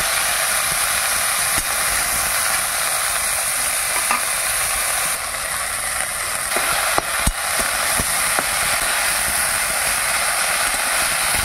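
Red amaranth greens hit a hot pan of lightly fried onions and sizzle loudly with a steady, hissing roar. Occasional clicks and scrapes of stirring sound close by throughout.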